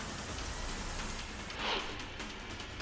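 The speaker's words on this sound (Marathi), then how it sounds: "मुसळधार पावसामुळे पुण्यातील रस्ते पाण्याखाली गेले होते" Heavy pre-monsoon downpour over Pune's Katraj area, where streets lie flooded. A dense, even roar of rain fills the short stretch, with a slight surge midway and no voices.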